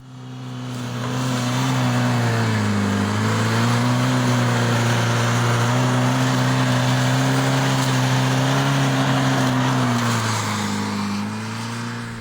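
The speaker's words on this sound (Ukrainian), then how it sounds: "баги швидкі, потужні та маневрені. Вони з легкістю проїдуть по бездоріжжю, піску та навіть болоту" A military all-terrain buggy drives off-road, its mid-pitched engine droning loudly and steadily for about ten seconds with slight rises and dips in revs, fading in at the start and easing off at the end.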